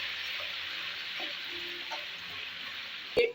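Ginger garlic paste frying in a pan for a mutton kaleji masala, a steady close sizzle with a few soft stirring scrapes and a sharp clink near the end.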